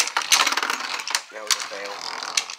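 A fake Wild Wyvern Beyblade Burst top is ripped from its launcher and grip, giving a loud ratcheting whir and clicking mechanism noise followed by brief rattling as the top hits the surface, close up.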